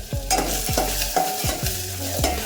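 Potatoes are stirred into aloo bhaji in a pan, with a spoon scraping in a steady rhythm of about five strokes over a continuous sizzle of frying, and no voices.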